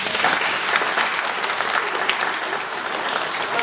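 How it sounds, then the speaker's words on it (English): Students at a Stage 1 school award assembly receive a steady round of clapping from the audience, dense and sustained throughout with no voices over it. "Please give 1R a clap."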